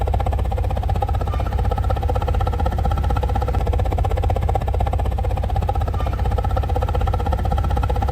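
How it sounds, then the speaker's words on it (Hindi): A car with a K24 engine and a new exhaust idles steadily, a constant low droning rumble that is loud and unbroken throughout, with no talk over it. "आप लोग आइडल पे गाड़ी की आवाज चेक करें"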